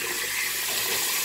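Fresh water running from a tap into a sink during a shaving routine, a steady bright rushing splash, close and continuous for the whole short moment.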